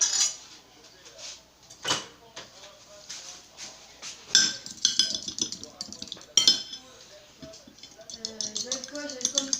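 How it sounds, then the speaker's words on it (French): A whisk or spoon stirs choux pastry dough in a bowl, giving irregular clinks and scraping taps against the bowl. A person talks throughout. "Donc, tu mélanges comme une omelette"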